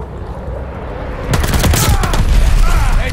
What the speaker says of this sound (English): Enemy's got a death machine coming in.